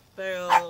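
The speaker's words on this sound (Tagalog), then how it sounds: "sorry sa ingay ng aso ko" A pet dog barks indoors, one short bark rising over a voice as he talks in Filipino while unboxing Minecraft trading cards.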